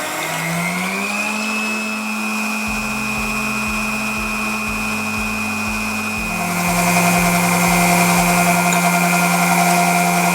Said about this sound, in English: we want to beat these now on a medium-high speed until they're nice and fluffy